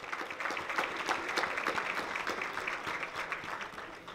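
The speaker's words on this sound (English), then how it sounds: "If you are justice fighters, give yourself a hand clap, and don't be shy about it." Audience at an NAACP Brockton branch 65th anniversary celebration claps their hands in steady, dense applause that fills the room at an even level throughout.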